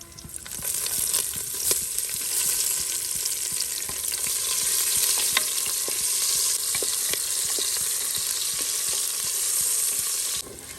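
Onion sautéing with cinnamon, cloves and pepper in hot oil for canteen-style veg pulao in a cooker, a steady loud sizzle broken by scattered crackles and stirring clicks throughout, with no talking.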